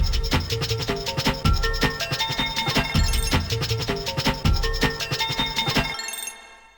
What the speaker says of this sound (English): I've also ran it through Redux on 8-bit mode to sort of double bit crush